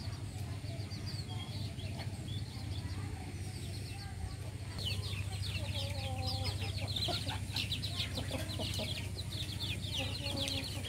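Chickens clucking in a rural village setting, several birds with repeated short clucks rising in activity partway through over a low steady background hum, moderately distant.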